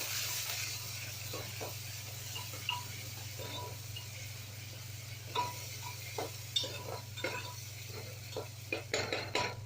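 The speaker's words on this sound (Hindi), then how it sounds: "उसके बाद प्याज, इसे अच्छी तरह मिला लेंगे।" Onions stirred into masale bhat rice in a pan, with a steady run of soft scraping and clinks of a spoon against metal, picking up toward the end, over a constant low hum.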